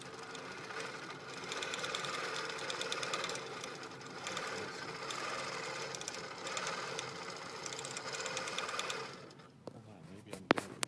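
Sewing machine stitching with an INNOVA cording device attached, a steady loud mechanical whir and rapid needle chatter running continuously before stopping near the end, leaving a few faint clicks.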